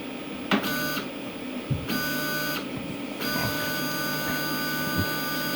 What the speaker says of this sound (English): Now we want to raise the z-axis.